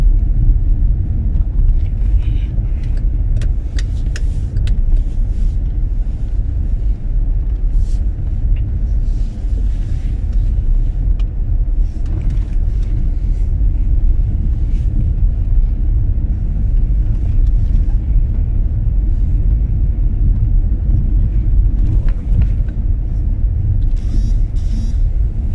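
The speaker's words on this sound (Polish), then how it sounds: "Ja sobie na rondzie zawrócę." A car drives steadily through a roundabout and turns around in a residential zone, the low engine and road rumble continuous and fairly loud throughout with no talking.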